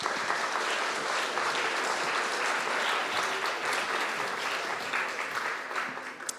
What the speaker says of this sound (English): Please give a round of applause for Nicola and Peter.